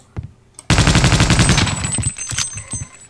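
A weapon fires in Half-Life: Opposing Force, letting off a loud, close, rapid automatic burst lasting over a second, followed by a few scattered shots.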